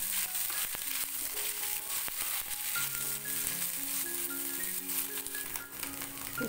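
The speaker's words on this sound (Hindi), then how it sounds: "अब मैं उसमें जो बॉईल किए हुए सोयाबीन है इसे हमें थोड़ी देर फ्राई करना है।" Boiled soybeans frying in hot oil in a pan give a continuous crackling sizzle with faint rattles and stirring. Some steady hum lingers in the background, and no one speaks.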